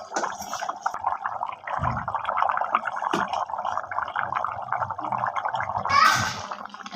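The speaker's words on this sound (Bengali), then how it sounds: "দেখুন আমার বড়াগুলো দিয়ে দিয়েছি, ঝোলটা ফুটে হচ্ছে।" Minced-shrimp balls simmer in boiling curry in a home kitchen, giving a close, continuous bubbling and gurgling with a brief clatter near the start.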